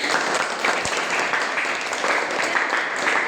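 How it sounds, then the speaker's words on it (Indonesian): A classroom claps for the winning group after a board game lesson, a steady wash of hands from many students, fairly loud and continuous. "Boleh beri tepuk tangan."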